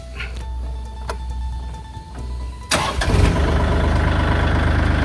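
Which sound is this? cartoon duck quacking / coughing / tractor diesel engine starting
tractor diesel engine starting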